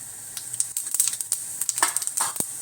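Fennel seeds crackle and sizzle in hot sesame oil in a pan, a busy run of sharp pops and spits over a constant hiss, close and moderately loud with no talking.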